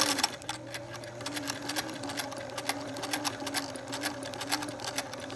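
A vintage Singer 457 sewing machine runs steadily through fabric, a continuous rapid needle clatter over a low motor hum, close and alone, with a faulty stitch where the top and bottom threads fail to catch.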